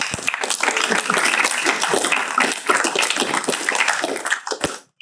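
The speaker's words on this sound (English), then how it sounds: "can we give a round of applause for our athletic director?" A round of applause at a board of education meeting greets the athletic director, dense clapping from a seated audience filling the room steadily for about five seconds before cutting off abruptly.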